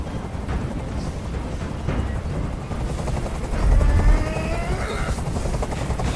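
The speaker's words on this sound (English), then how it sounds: "Tell that helicopter to get out of here." A helicopter's rotor drones steadily and loudly in the video game Detroit: Become Human, with rumbling low thumps and scattered bangs mixed into the continuous noise.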